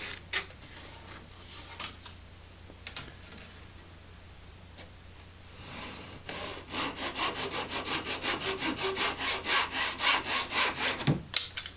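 A hand saw cutting small mahogany pieces for an oval mirror frame: a few light scrapes and taps, then a steady run of rhythmic back-and-forth strokes that speed up and grow louder, close by with no talking.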